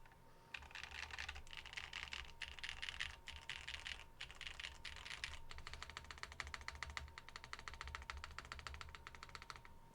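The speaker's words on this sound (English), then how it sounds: "trying to find out why is the spacebar so dead sounding" Rapid, steady typing on a Baion Synovia mechanical keyboard, with dense clacking keystrokes and a dull, muted spacebar, close and continuous with a brief pause midway.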